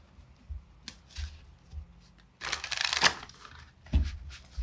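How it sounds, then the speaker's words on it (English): Tarot cards shuffled close to the microphone: soft taps and card riffles, then a louder burst of rapid shuffling near the middle and a few more muted handling sounds. "I'm trying to shuffle as like quietly as I can."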